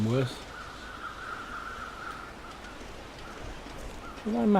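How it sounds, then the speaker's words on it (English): Crows caw in the wintry wilderness of the video game The Long Dark, with a few distinct calls at the start and end over a faint steady background hum. "Can hear the crows."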